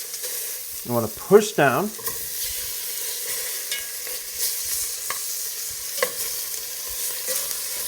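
Beef short ribs searing fat side down in hot olive oil give a steady close sizzle that runs the whole time, with brief scraping as the meat is pressed into the pan and someone speaking briefly over it.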